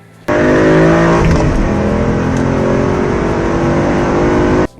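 A Ford Mustang GT engine revs hard and loud for nearly five seconds, its roaring tone rising slightly before cutting off abruptly.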